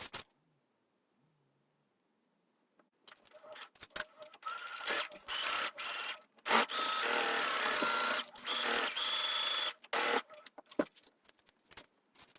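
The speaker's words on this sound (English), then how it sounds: "we're going to sew down the side seams and clip them and press them out" A sewing machine stitches the side seams of a jumpsuit, running in steady sustained bursts with brief pauses between them, close and fairly loud after a few seconds of near silence.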